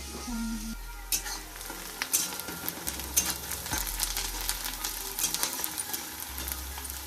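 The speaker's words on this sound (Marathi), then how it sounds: "कांदा परतायला वेळ लागणार." Chopped onion sautéing and stirred in a pan on a home stove while raw jackfruit bhaji is cooked, a steady close sizzle with scraping stirs and light clinks running throughout, no talk.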